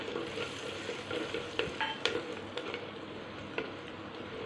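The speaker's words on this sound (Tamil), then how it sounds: "வதக்கிட்டு வெங்காயம் நல்லா வணங்கின உடனேயே எடுத்து வச்சுருக்க வரமிளகாய் தூளும் மல்லித்தூளையும் போட்டுருங்க" Onions sautéing with red chili powder and coriander powder in a pan for mushroom gravy, a constant close sizzle broken by irregular spatula scrapes and clinks against the pan, with no voices.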